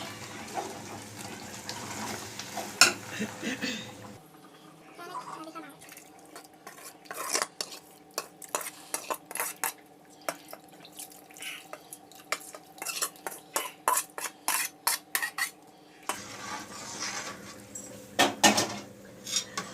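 A spoon stirs a rice and curry mixture in a pressure cooker, scraping and clinking against the metal in irregular knocks, with a stretch of running-water hiss before and after.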